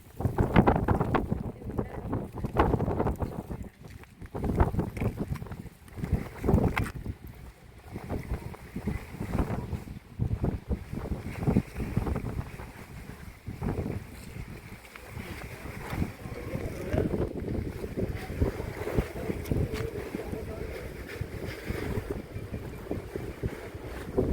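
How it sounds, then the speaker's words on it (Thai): Strong wind gusts across a fishing harbour during cast-net fishing, a loud rumbling roar buffeting the microphone, heaviest in the first half and then settling into a steadier rush, with no clear talk. "ลมแรงมากกว่านี้"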